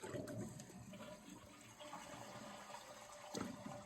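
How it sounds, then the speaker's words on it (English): A toilet with a newly replaced fill valve flushes and its tank starts refilling, a close gurgling rush of water that eases slightly, then surges again near the end. "Watch what happens. I'm going to flush."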